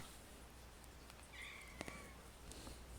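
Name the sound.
cat meowing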